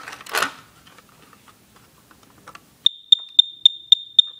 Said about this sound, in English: that means it was doing that rapid chirping. That means the alarm has been activated since it was last tested.